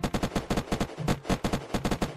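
Rapid video game gunfire during a raid, with bursts of repeated shots in quick succession, fairly loud and close, continuing almost without pause.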